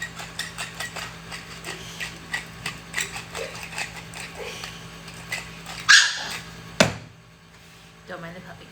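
A puppy in a kitchen lets out a few sharp barks partway through, set against ongoing clicking and tapping, with quieter yips afterward.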